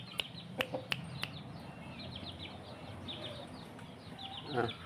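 Burmese fighting cocks in a rural village cluck a few times close by early on, then quieter calls and a brief louder cluck near the end against steady outdoor ambience.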